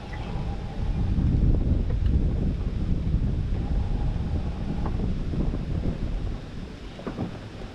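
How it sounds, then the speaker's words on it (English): Strong wind buffeting the microphone at Laurel Hill Lake, a loud, continuous low rumble with gusty surges and no clear speech. "Having trouble with this wind."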